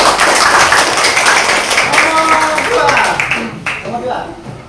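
Students in a classroom clap together, a loud, close burst of hands that thins toward the end while voices speak over it.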